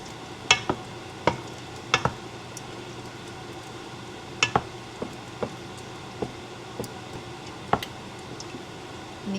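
A spoon stirs cornstarch slurry into a bowl of dim sum-style steamed rice, giving scattered sharp clicks and taps against the dish over a soft, quiet background.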